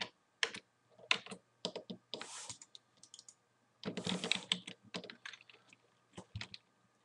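Typing on a computer keyboard while entering an Excel formula: irregular bursts of key clicks and a couple of longer rattling runs, close and fairly quiet, with no talking.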